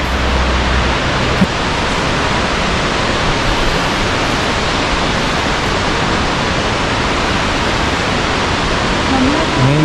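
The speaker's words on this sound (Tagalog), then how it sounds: "Ayun, ito na yung falls." Waterfall roaring as a dense, steady rush of falling water, loud and continuous throughout, with a faint voice briefly audible beneath the noise.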